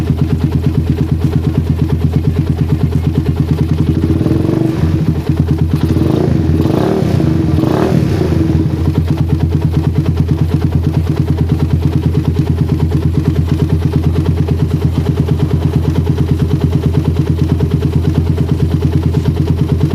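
A motorcycle engine with a PE, PWK or PWL carburettor idles steadily while cold with a low, even rumble, briefly revving up a few times before returning to its constant hum.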